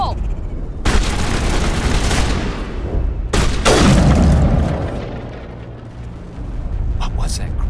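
A grenade detonates in the video game Mass Effect, giving heavy booming blasts, one near the start and a louder, longer rumbling one mid-clip, with gunfire and combat noise around them and a voice briefly heard.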